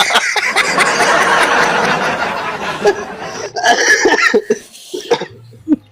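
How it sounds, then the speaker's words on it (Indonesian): A man coughs in a harsh, rough burst lasting several seconds, close and loud, followed by a few shorter coughs and throat sounds. "batuk dia"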